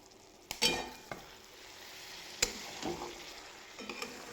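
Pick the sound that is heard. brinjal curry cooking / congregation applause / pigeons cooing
brinjal curry cooking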